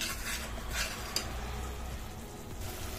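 Gravy with chili powder and a little sugar stirred in a pan, a quiet continuous scraping and low sizzle with one small metallic clink.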